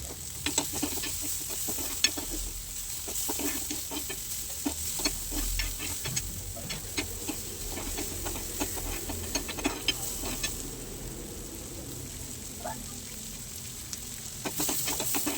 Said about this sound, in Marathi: व्यवस्थित कांदो सो लालस लालस होईपर्यंत भाजून घेतले